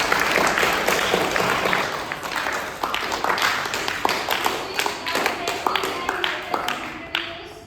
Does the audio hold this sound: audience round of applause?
yes